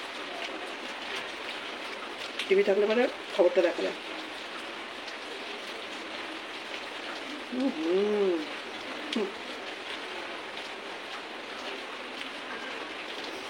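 Steady rain pours through a day of downpour, a constant broadband hiss that runs the whole time, with a voice speaking briefly over it near the start and again midway.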